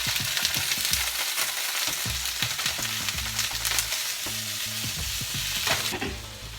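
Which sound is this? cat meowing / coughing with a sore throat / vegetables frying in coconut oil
vegetables frying in coconut oil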